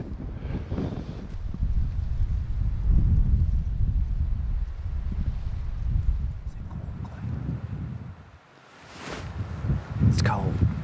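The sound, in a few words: strong wind blowing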